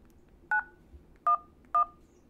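A TCL Flip 3 phone without a SIM card dialing 911: three short, clear keypad tones sounding alone over a quiet background.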